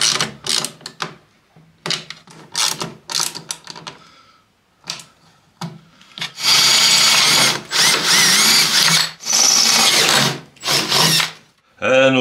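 A power tool tightens parts on a Polaris RMK SKS snowmobile, running in loud bursts: several short stuttering pulses at first, then longer sustained whirring runs close by, with a voice speaking briefly in between.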